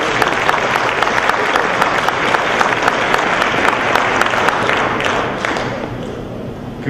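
A large audience applauds student athletes at an awards ceremony, a dense, loud, sustained wash of clapping that holds steady for several seconds before easing slightly at the end.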